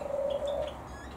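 Red-rumped parrot calling inside an aviary: a loud, sustained whistle-like call up close, followed by fainter softer chirps, with no talking.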